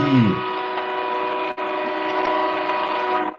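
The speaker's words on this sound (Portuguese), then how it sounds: "o meu amigo do trem buzinando" A train horn blasts loud and steady for about three seconds, a single sustained honk that cuts off abruptly, with no other sounds around it.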